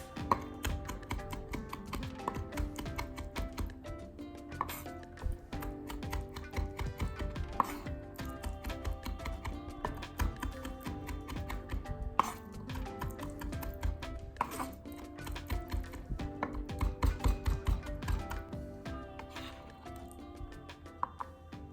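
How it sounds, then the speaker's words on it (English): Rapid, steady chopping of lotus root with a cooking knife on a board, dense rhythmic blade taps continuing nonstop and close up throughout. "And mince it with a cooking knife."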